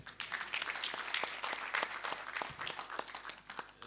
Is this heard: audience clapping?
yes